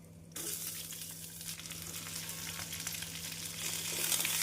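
Urad dal, chana dal, dried chilies and curry leaves frying in oil for an onion-tomato chutney: after a brief quiet start, a soft crackling sizzle sets in and holds steady, swelling slightly toward the end.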